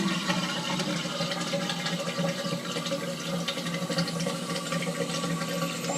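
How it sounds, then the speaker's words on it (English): Water drains steadily from rail-system tanks through an opened freeze valve, producing a continuous, fairly quiet hissing rush with no distinct pop and no voices. "Once that happens, the valve will pop open and drain the water."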